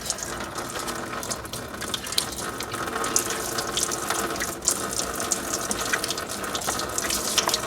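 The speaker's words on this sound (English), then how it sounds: "And drain the coolant." Coolant pouring from the radiator petcock of a 2002-2006 Jeep Liberty 3.7L, a steady splashing, trickling stream close by that runs continuously with slight surges and no talking.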